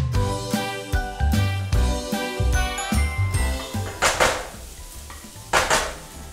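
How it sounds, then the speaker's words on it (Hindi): A metal spatula clangs and scrapes rhythmically against a wok as leftover ginger and garlic are stir-fried, with quick repeated metallic clinks, a faint sizzle, and no talking. "बचा हुआ अदरक लहसुन डाल लेते हैं"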